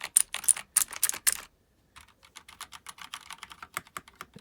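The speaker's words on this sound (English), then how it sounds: "But if you like to hear the click, you get blue switches. Just way clickier." Rapid bursts of typing on a mechanical keyboard fitted with clicky blue switches, sharp close clacks in quick runs, a short pause, then lighter, steady keystrokes.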